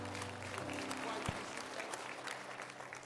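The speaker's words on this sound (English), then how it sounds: "Give them a hand clap." A church congregation at an evening Baptist service applauds returning college students, a steady wash of clapping from a large group filling the room, with a brief low thump partway through.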